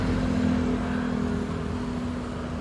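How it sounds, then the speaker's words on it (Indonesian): An ALS intercity bus bound for Medan pulls away from its ticket office in Palembang, a steady, loud diesel engine drone with a low hum that holds through the whole moment and eases slightly toward the end. "Udah lagi berangkat bisnya ini teman-teman"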